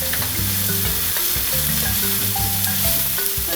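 White sesame seeds fry in a pan with a loud, continuous sizzle and crackle, interrupted by brief stirring scrapes, close up and with no one speaking.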